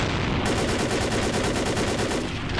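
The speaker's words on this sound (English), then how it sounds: "Cool, you guys just keep shooting." Enemies in Vampire: The Masquerade Bloodlines fire a sustained, loud burst of automatic gunfire that runs steadily through the whole stretch with dense rapid shots.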